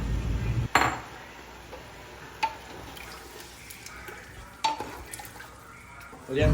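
Mutton masala is stirred in a pot after water is poured in, with scraping spoon strokes, metal clinks and light bubbling close up, and a voice speaks briefly.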